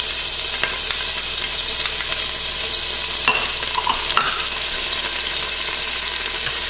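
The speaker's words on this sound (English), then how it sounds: "we are going to cook the spice in the tomato paste for about 2 to 3 minutes" Tomato paste and Haitian spice cooking in olive oil for a bread soup, stirred in the pot: a continuous bright sizzle with scraping strokes and a couple of sharper knocks, close and fairly loud, no voices.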